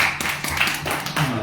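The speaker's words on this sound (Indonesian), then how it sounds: "Kita berikan tepuk tangan" A church congregation claps in a quick, steady burst of overlapping handclaps, fairly close and dense, without talk over it.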